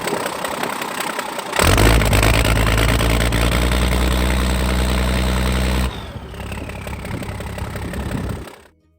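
A front end loader's Cummins 5.9 diesel engine idles close by, a loud steady rumble that rises after a quiet start, drops to a lower idle about two-thirds through, then cuts off.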